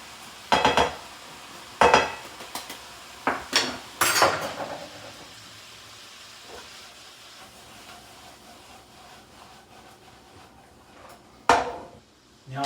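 A new wok being scraped with a metal utensil while lemon and lime flavour the food: several sharp, close scraping clatters come in quick bursts near the start and once near the end, with a quiet lull between.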